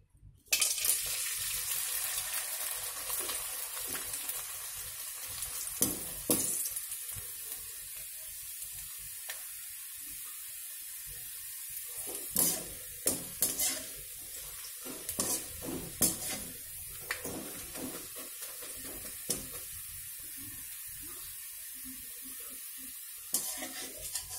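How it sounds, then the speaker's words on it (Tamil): Sun-dried kuchi vadam murukku crisps frying in hot oil, a continuous sizzle with bursts of crackle and stirring clinks, with no talking. "வாங்க உங்களுக்கு நான் பொறிச்சு காமிக்கிறேன்."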